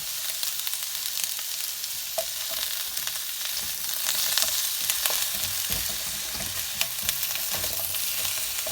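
Big chunky pepper pieces fry for Gobi Manchurian, a dense, even sizzle filling the whole stretch with faint scraping of the pan underneath.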